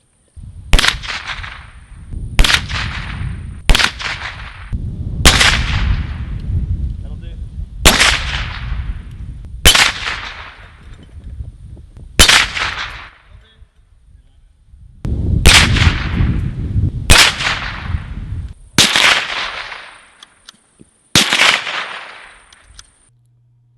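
A Savage MKII BTVS .22lr rifle fires at targets outdoors, about a dozen sharp, loud cracks spaced irregularly a second or two apart, each with a short ringing tail.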